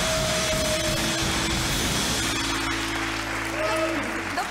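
A television talk show studio audience applauds steadily and loudly throughout, a dense wash of clapping with no pauses.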